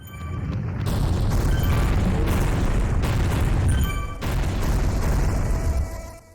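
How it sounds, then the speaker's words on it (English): A collapsing bridge in the Mr Bean PS2 game lets out a deep, loud rumbling crash that holds strong for several seconds, dips briefly, then rolls on before cutting off. "collapsing bridges that make such a thunderous crash you'd think your house had just been bombed"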